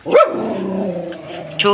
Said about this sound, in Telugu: ఇది ఆ కుక్క పిల్ల.